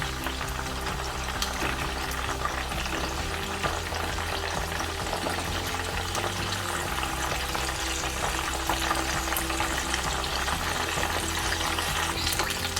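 Chicken wings fry in hot oil with a dense, steady sizzle and crackle that continues throughout, with no voices.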